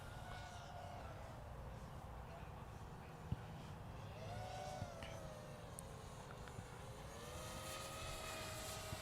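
A small training drone hovers and maneuvers overhead during a beginner flight lesson, its steady whining buzz rising and falling in pitch as the throttle changes, continuous and moderately distant against faint background noise.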